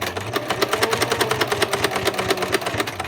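A sewing machine stitches a centered zipper in fabric, running steadily with a fast, even mechanical rhythm of needle strokes up close and loud, with no talking.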